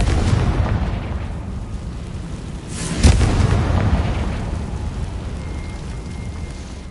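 A Confringo blasting spell detonates in the wizarding game Hogwarts Legacy, one sharp burst midway through, over a steady hiss like rain. The blast tail fades gradually back into the background noise.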